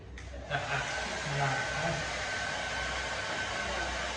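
A handheld hair dryer blows on someone's hair during an at-home family beauty session, a steady, close, loud rushing whoosh that runs unbroken for the whole stretch.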